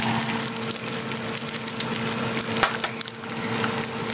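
Frozen breakfast food sizzles and crackles in a hot frying pan, a steady dense hiss under a constant low hum, with occasional sharper pops and no talk.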